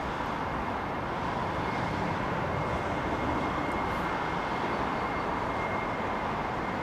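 Steady broadband jet roar of an airliner departing runway 09 left at London Heathrow on a full-length takeoff roll, loud and continuous without voices.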